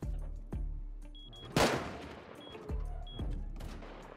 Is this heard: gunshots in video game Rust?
yes